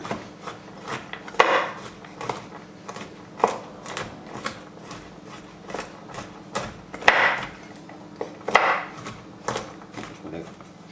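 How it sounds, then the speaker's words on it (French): A knife coarsely chops almonds on a cutting board, producing a steady series of sharp wooden knocks, some heavier thuds, and brief scraping sounds, close and clear. "Casser grossièrement les amandes"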